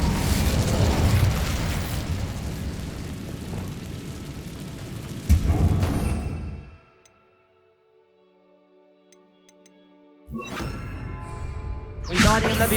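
Bombarda and Incendio spell blasts in the Hogwarts Legacy video game, a loud rumbling explosive burst with a heavy thump, fading to near silence before another booming blast erupts.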